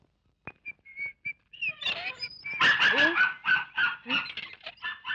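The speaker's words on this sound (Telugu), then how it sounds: "అరే, ఈ జంతువు మొరుగుతోంది." A dog barks repeatedly in a quick, uneven series of loud, close yaps, with whimpering, high-pitched whine-like sounds mixed in and a short whistle near the start.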